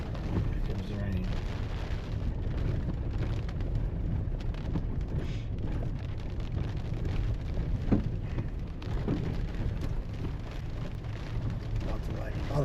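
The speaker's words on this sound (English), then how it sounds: "Here comes the rain." Heavy rain falling during a tornado storm, a dense, steady roar with a deep rumbling low end that holds without a break throughout.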